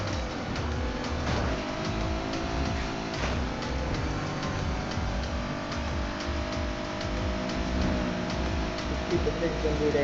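A racing car's engine holds a steady, loud drone at top speed of about 188 during a lap of Need for Speed Heat, with tire and road noise throughout and a voice speaking over it.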